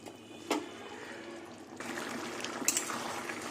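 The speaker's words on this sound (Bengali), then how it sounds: "এবার কিছুক্ষণ ফুটবে তারপরে নামাবো" Aloo posto, a potato and poppy-seed curry, simmers in an uncovered pan with a soft, continuous bubbling and light liquid trickling, close and quiet.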